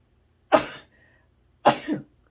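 Two short explosive bursts about a second apart, each a sharp onset fading quickly, like sneezes or coughs, close and fairly loud with quiet between.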